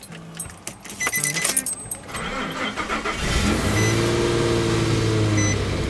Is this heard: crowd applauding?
no